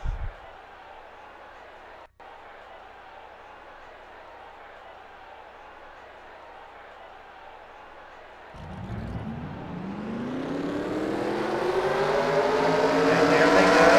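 Stock cars at Atlanta in a Super Stock Short track heat race pull away from the start; after a low rumble, a loud roar of engines swells and climbs in pitch as the field accelerates, with a voice over the crowd.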